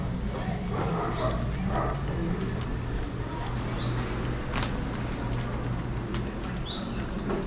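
A dog in a street in the Getsemani neighbourhood of Cartagena, Colombia, barks a few times at a distance amid steady street noise and chirping birds, with people talking faintly.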